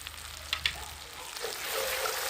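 Spice masala, with salt, turmeric, red chilli powder and sugar, sautéing in a pan, a faint steady sizzle with a couple of quick stirring clinks, brief and quiet.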